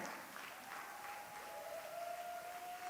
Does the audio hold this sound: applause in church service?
yes